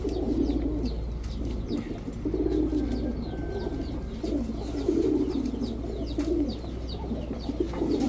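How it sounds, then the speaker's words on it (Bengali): Indian Kaldum high-flying pigeons coo in repeated low, throaty rolls, close and steady, with faint chirps and a constant background hum, no talking. "সুন্দর একটা কালদম জোড়া, ইন্ডিয়ান কালদম, হাই ফ্লাইং কালদম একটা জোড়া।"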